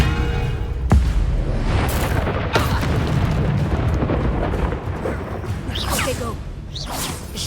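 A Confringo spell explodes in the video game Hogwarts Legacy with a loud, deep boom, followed by a sustained rumbling roar and several whooshing swishes near the end.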